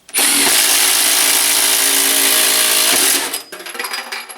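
Milwaukee 2653 drill driving a Shockwave thin wall hole saw through a hole, loud and steady for about three seconds, then the motor spins down with a few rattling clicks as it stops.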